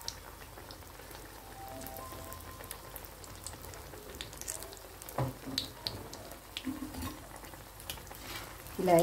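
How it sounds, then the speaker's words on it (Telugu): Potato chilli bajji fry in oil with a faint, steady sizzle. Scattered crackles and pops rise toward the end. "ఇలా నూనె సరిపడా వేసుకోండి. బాగా వేగనివ్వండి."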